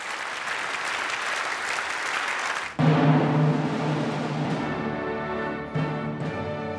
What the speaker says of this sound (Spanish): la mandataria, que próximamente dejará el poder, recibió una prolongada ovación